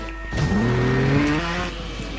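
Motorbike engine in the Trials Evolution video game revving hard and accelerating, a loud rising whine with climbing pitch that holds steady, then eases off near the end.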